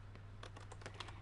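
A short flurry of keystrokes on a coffee-stained computer keyboard with a sticky shift key: close, crisp clicks in quick uneven succession over a constant electrical hum.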